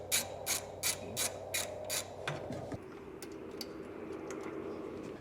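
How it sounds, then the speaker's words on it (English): Ratchet with a 16mm socket loosening hitch mounting bolts on a 2023 Volkswagen Tiguan, giving about seven evenly spaced ratcheting strokes, then a clunk and scattered faint clicks. "These are gonna be a 16mm socket to get these removed."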